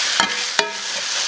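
Grated pumpkin batter sizzles in a hot pan, a constant bright frying hiss broken by two quick scraping strokes of a spatula, close and with no voice.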